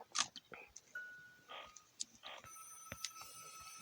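A telephone rings faintly in the horror video game The Return to Freddy's 2, its thin tonal ring mixed with scattered clicks and short noise bursts.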